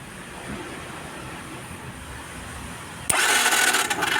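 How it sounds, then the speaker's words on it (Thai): Starter motor of a Yamaha Fino scooter, wired directly for a bench check, abruptly whirs into a loud, steady spin after about three seconds of quiet background. "ถ้าต่อตรงแล้วตัวมอเตอร์สตาร์ทหมุน ก็ถือว่ามอเตอร์สตาร์ทใช้ได้"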